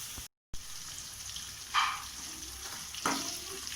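Chicken masala with chili powder sautéing in a pan for butter chicken, a steady soft sizzle with a couple of brief stirring scrapes and a short gap of silence near the start, no talking.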